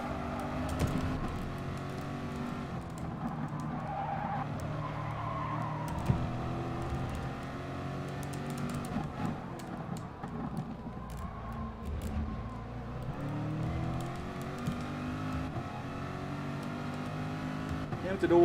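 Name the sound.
race car engine and tires in the video game Gran Turismo Sport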